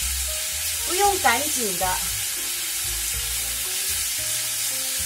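Lamb slices and green onion stir-frying in a wok at home, a steady close sizzle with a few louder bursts as the meat is tossed, under a brief voice.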